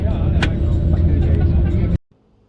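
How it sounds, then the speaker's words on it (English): A comfortable coach bus travelling from Alicante to Benidorm gives a loud, steady low engine and road rumble from inside the cabin, cutting off abruptly near the end. "Okay, so that was the bus from Alicante to Benidorm."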